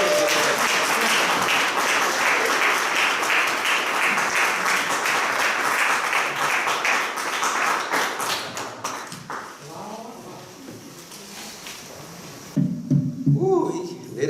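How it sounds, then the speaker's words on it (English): Audience applause for speaker Ben X at a speaking event, a dense sustained wash of clapping that thins out and fades toward the end, with a few scattered voices and shouts near the close. "Can y'all please give a brother another round of applause?"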